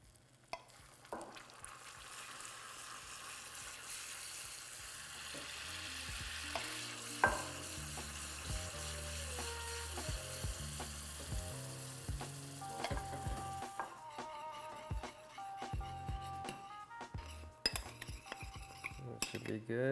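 Cream hitting hot browned butter for a caramel, giving a close, continuous sizzle with a spoon clinking and scraping against the pan and brief pan knocks, no talking.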